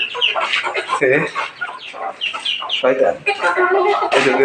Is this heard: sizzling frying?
no